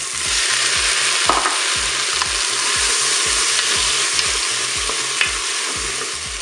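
Peppers and tomatoes browning in a Cookeo multicooker, a loud steady sizzle with a rhythmic low mechanical churning beneath and occasional scrapes of a utensil, close up.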